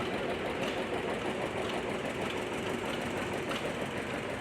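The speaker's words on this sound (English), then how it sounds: "Here we have a John Deere 70. 1956." A 1956 John Deere 70 tractor runs at a steam show with a steady, even engine drone that does not change over the whole stretch, loud and close, with no talk.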